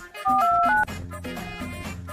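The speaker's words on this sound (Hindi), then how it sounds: "अच्छा तो फोन मिला" A few short electronic telephone dial tones beep in quick succession at close range, over low background hum and faint room sound.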